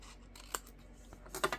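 Scissors snipping paper hearts off a strip, a couple of short crisp cuts in a quiet room.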